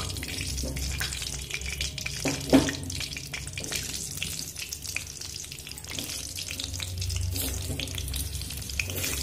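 Boiled potatoes fry in hot oil, a steady close sizzle with occasional clinks and stirring sounds, fairly quiet overall.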